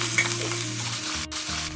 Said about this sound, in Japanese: ベーコンを中火で炒めます。